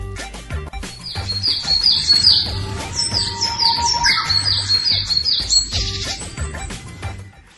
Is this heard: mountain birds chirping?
yes